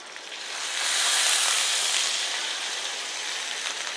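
Prawns sizzle loudly in a hot pan as white wine is poured in, a broad steady hiss that swells after the first second and then holds.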